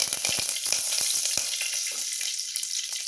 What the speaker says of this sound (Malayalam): ഇതേ രണ്ട് കരുവേപ്പിലയും കൂടെ ഇടാം